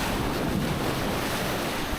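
Steady surf and wind buffeting the microphone at a favorite beach in Mallorca, a continuous broad wash of waves with no talking.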